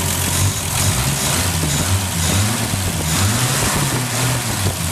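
An aluminum Slant Six engine idles steadily and close up, a loud, even low rumble with a slight lope and no voices over it.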